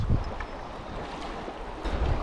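Small river waves lap and slosh around a canoe on the Loån or Voxnan in Hälsingland, with steady wind noise and a few louder splashes near the start and end.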